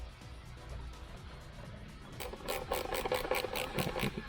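Screws being driven back into the plastic airbox of a Can-Am Ryker, a faint low whir in the first half, then a louder rapid buzzing of a powered driver up close.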